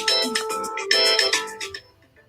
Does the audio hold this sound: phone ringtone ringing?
yes